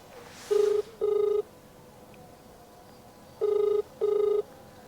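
A phone call rings out on the line: two pairs of clear, even ringback tones separated by a pause, heard alone and fairly faint.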